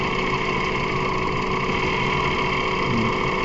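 A 2006 Mazda 3 engine with a blown head gasket idles roughly, a close, loud, steady drone with an uneven underlying pulse and no voices.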